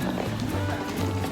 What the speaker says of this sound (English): riding horses and going through beautiful neighborhoods here in Rancho Palos Verdes